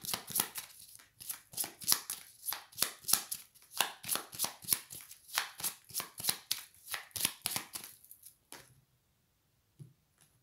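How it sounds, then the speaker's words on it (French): Tarot cards shuffled by hand in a quick run of crisp, riffling bursts lasting about eight seconds, close and fairly loud, then stopping, with a faint soft tap near the end. "Je vais mélanger les cartes et vous choisirez ensuite."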